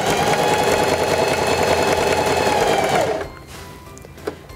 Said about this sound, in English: Place the fabric underneath the presser foot, lower the presser foot, and begin sewing.